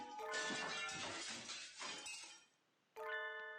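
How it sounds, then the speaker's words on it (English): Glass shatters in a loud crash inside the Hatoful Boyfriend: Holiday Star video game, a dense burst of breaking shards and clinks that fades out, then after a short silence a bright sustained chime of tones sounds. "Some glass object splinters with the monumental crash behind us as we make for the exit."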